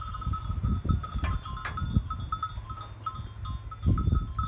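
Goats and lambs bleat and shuffle about nearby, with soft thuds and a faint bell jingling now and then in a farmyard.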